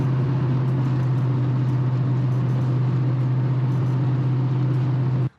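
A 1986 Chevrolet K10 pickup's engine runs in a steady, loud drone with a strong low hum throughout, holding nearly constant before cutting off abruptly at the very end.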